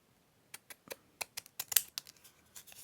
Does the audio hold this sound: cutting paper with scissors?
yes